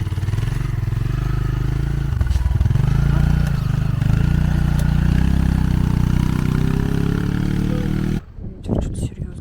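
Mountain motorcycle engine on a volcano in Bali. It makes a loud, steady low drone that slowly rises in pitch, then cuts out near the end, leaving wind and brief movement noise.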